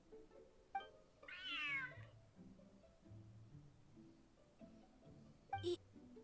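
A game cat meows once in Genshin Impact, a short rising-and-falling call that stands out over soft background game music and ambience, with a faint brief chirp near the end.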